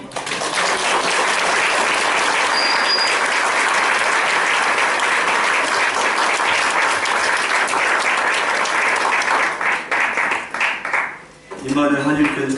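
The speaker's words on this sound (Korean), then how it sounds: "박수로." Loud, sustained applause from a congregation at a Korean church founding service, filling the room for about ten seconds before fading out into a brief pause and then resuming.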